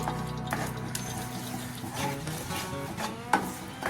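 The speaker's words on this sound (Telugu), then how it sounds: "కలుపుకుంటూనే ఉండాలి కంటిన్యూస్గా ఎక్కడా కూడా శుద్ధం లేకుండా చక్కగా ఇలా కలుపుతూనే ఉండాలి" A peanut mixture roasting in a pan is stirred steadily and without pause, making a continuous scraping, swishing sound with occasional small knocks of the spoon against the pan.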